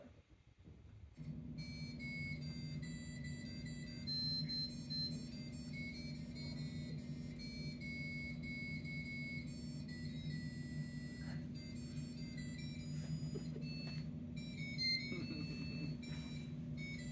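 Buzzers on an iPodduino project demo play a tune, a bright melody of beeping notes over a sustained lower bass buzzer line, two notes sounding together, loud and continuous.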